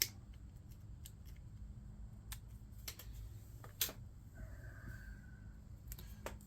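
Scissors or snips cutting a piece off a chunk of silver scrap jewelry, a series of quiet sharp clicks and snips close by, irregularly spaced in a quiet room.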